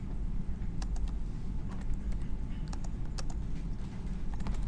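Rapid bursts of clicking keystrokes on a computer keyboard, irregular and fairly close, rattle along over a low, steady room hum with no talking.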